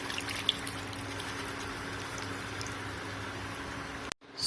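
Water pours into a simmering fish masala curry in a pan, a soft continuous trickle and bubbling hiss for several seconds, faint and close, ending with a brief knock.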